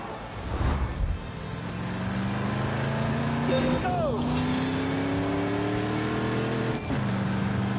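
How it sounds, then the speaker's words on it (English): A Chevrolet Corvette sports car drives steadily in The Grand Tour game, engine droning and shifting in pitch throughout, with a narrator talking over it. "The Corvette, America's premier sports car."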